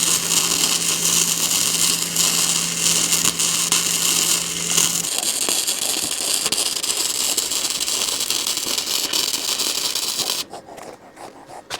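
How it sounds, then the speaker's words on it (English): Steady, loud buzzing and crackling as concrete anchors are welded onto a 55 gallon steel drum for tractor ballast, a continuous harsh hiss with a low hum in the first half, cutting off near the end. "I'll weld it to the barrel there."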